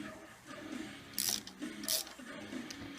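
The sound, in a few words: ratchet tightening bolt on Buick 455 timing cover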